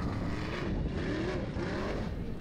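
A formula offroad car's engine roars continuously and loudly on the throttle during a rolling competition run in Egilsstadir, Iceland, one sustained raspy drone with no talk.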